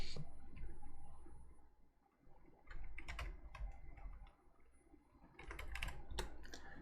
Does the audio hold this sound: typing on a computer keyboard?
yes